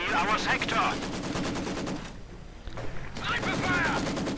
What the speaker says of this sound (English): There we go, sniper fire.